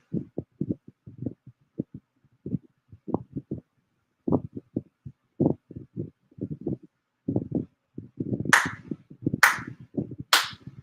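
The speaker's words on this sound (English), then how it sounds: "4 sincere claps" Four sharp ritual hand claps at a Shinto monthly ceremony, bright and close, coming near the end after a spell of low, murmured talk.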